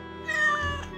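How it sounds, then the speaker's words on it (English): A cartoon cat gives one clear, drawn-out meow, close and loud, in a Mr. Bean winter holiday animation. "Oh, nice cat."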